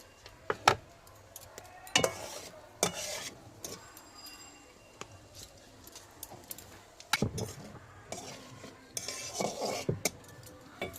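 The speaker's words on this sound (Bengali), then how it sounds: "এর মধ্যে আমি গোটা গরম মশলা, শুকনো লঙ্কা আর তেজপাতা দিয়ে দেবো দুটো ফোড়নে" Whole garam masala, dried red chillies and bay leaves dropped into hot oil for tempering, giving scattered metallic clinks of a utensil against the pan over a low frying hiss, with no voices.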